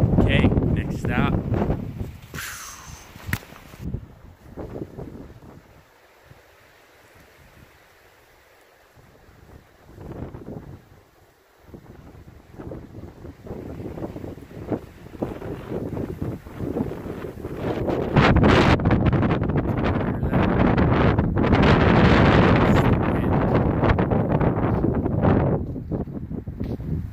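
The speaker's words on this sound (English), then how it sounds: "It's the wind. The wind." Wind blowing outdoors in Big Sky, buffeting the microphone with rumbling gusts that ease off briefly and then return stronger and sustained, with a voice talking over parts of it.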